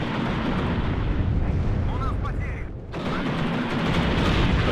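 A vehicle blows up amid gunfire in the WARNO real-time strategy game, a dense rumbling roar of explosions and weapon fire that stays loud throughout, dipping briefly about two-thirds of the way in.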